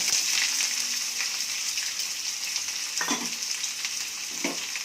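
Finely cut onion pieces frying in a pan over a low flame give a steady sizzle, with a few louder scraping strokes as they are stirred.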